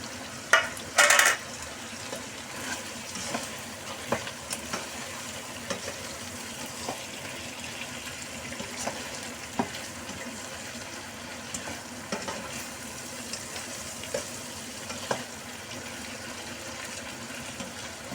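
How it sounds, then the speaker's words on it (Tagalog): Vegetables and fried dace fry with garlic in a pan, a faint continuous sizzle with occasional light stirring clicks and one brief louder clatter near the start. "I-fry ko lang siya ng konting bawang."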